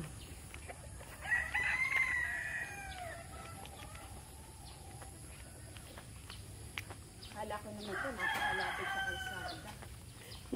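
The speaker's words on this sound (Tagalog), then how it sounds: "Ang daming manok." A rooster crows twice, fairly close, with clucking chickens and scattered bird sounds around it; people talk quietly in the background.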